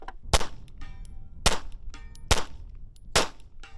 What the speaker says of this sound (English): Now I'm gonna downrange. try with a subsonic round.